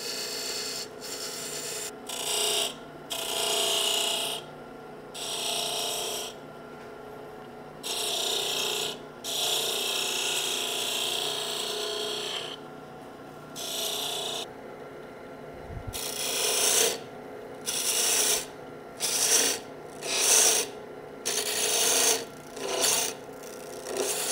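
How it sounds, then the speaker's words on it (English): A 3/8 inch spindle gouge shapes a wooden bottle stopper on a lathe, cutting in repeated rasping, scraping bursts broken by short pauses, close and steady, with no voices. "for the next set of cuts, as I'm going to try to start shaping the bottle stopper, I'm going to use a 3/8 of an inch spindle gouge"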